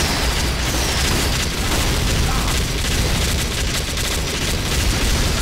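An engineer's sentry explodes in a Team Fortress 2 battle staged in Garry's Mod, a loud dense roar of blasts and gunfire filling the scene continuously without a break.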